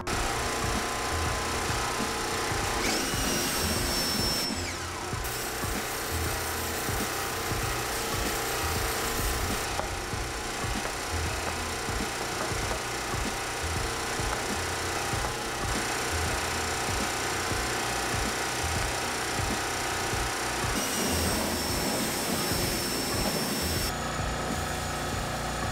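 Vacuum cleaner working through a car interior holding only light debris, a mobile detailing job on a hot California summer day; a loud, steady motor drone runs throughout, with brief shifts in tone as the nozzle moves.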